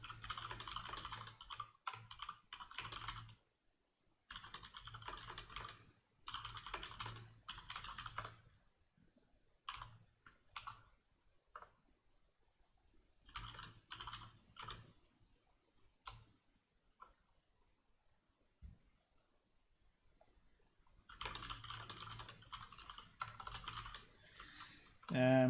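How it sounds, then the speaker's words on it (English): Typing on a computer keyboard during a live stream, bursts of rapid soft key clicks separated by pauses, faint and close, with brief quiet talk at times. "I'm typing a few things to him."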